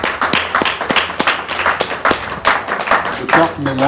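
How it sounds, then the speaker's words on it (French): An audience at a charity foundation event applauds, a dense patter of clapping hands that runs throughout, loud and close, with voices talking over it. "Est-ce qu'on peut applaudir?"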